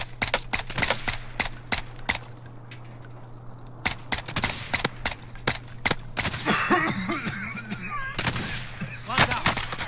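Rifle gunfire in the Warzone battle-royale video game: a long run of sharp, loud shots in uneven bursts, some fast and rapid-fire, with faint game effects and mutterings between them.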